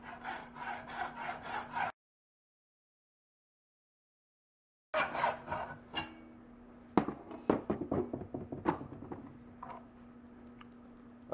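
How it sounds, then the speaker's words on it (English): A plain hacksaw cutting through bone to make a letter opener: quick rhythmic back-and-forth strokes, a pause of silence, then more rasping strokes mixed with a few sharp knocks, close by. "just got a plain old hacksaw."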